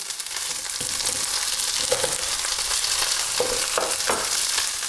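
Steady crackling sizzle of small onions frying in a pan, loud and close, with a few soft stirring knocks and no voices.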